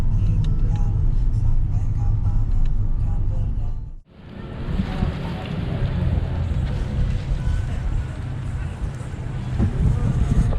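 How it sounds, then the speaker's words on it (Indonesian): A boat ferrying passengers across the water toward Pulau Kunti drones with a loud, steady engine rumble and wind rush, briefly dipping before the noise swells back, continuing dense and close. "Kita mau nyeberang dulu nih pakai kapal untuk pergi ke Pulau Kunti."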